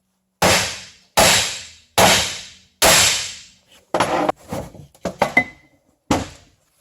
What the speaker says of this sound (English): this one might need a couple good whacks of the hammer